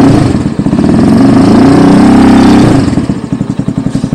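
A 250cc motorcycle engine idles up close with a loud, steady thrum, swelling briefly in the middle before settling back to a choppy, pulsing idle.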